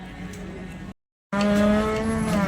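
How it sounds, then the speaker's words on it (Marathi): A Jersey cow lows nearby at a cattle market in Sangola, a deep sustained moo that breaks off briefly and then resumes louder. "आता आपण ही जर्सी गाय कवर करतोय"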